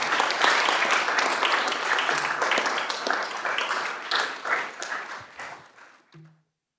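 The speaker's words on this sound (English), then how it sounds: "let's give all of those a big round of applause" Applause at a Board of Commissioners meeting after awards, a full round of clapping from the room that stays strong, then thins into scattered claps and stops abruptly.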